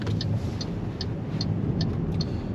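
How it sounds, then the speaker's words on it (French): The turn signal of an MG Marvel R electric SUV ticks inside the cabin, a regular light clicking about every 0.4 seconds over steady road and car noise while driving. "À noter le bruit très cheap des clignotants"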